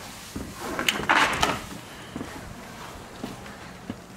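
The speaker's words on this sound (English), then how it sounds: "And this door, go ahead and open it." A door in a house swings open, with a short burst of wooden knocking and scraping in the middle, followed by a few faint, scattered taps in a quiet room.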